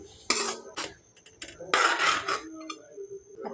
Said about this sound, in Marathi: ही मुगाची उसळ चमच्याच्या सहाय्याने व्यवस्थित मिक्स करून घ्यायची आहे